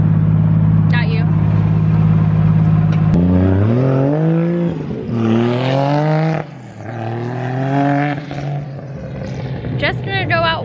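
A car with a 1.5JZ engine drives past in a flyby, a loud engine note rising and falling as it revs through the gears, then fading and returning.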